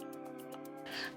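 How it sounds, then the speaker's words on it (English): A cat gives a short meow near the end, close by, over a steady tonal background hum. "that was a cat"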